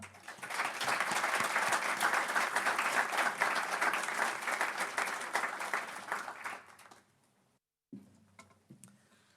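Audience applause at a behaviour change centre launch event in Melbourne, welcoming a professor to the stage: sustained, dense clapping from a full room that tapers off and stops, followed by a brief quiet pause and faint room sounds.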